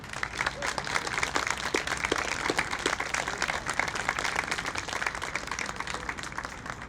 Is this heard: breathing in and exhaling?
no